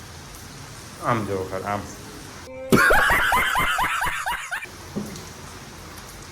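Steady rain falls outside in a soft continuous hiss beneath chatter and laughter from people sitting nearby.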